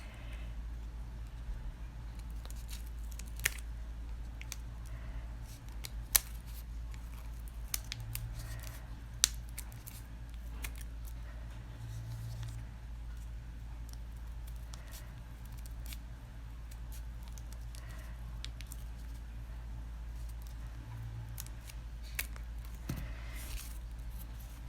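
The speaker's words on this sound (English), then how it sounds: "Now I'm gonna start cutting." Scissors snip through folded tissue paper for a craft pompom, a steady series of short close cuts with a few sharper clicks over a low constant hum in a quiet room.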